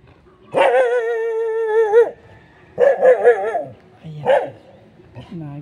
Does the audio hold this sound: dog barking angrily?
yes